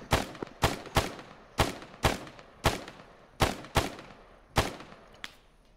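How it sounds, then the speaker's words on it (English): Separate gunshots from an Arma 3 firefight, about ten sharp cracks spaced irregularly at roughly half-second gaps, each with a short echoing tail, fairly near and heard alone with no talk. "We're taking shots up here"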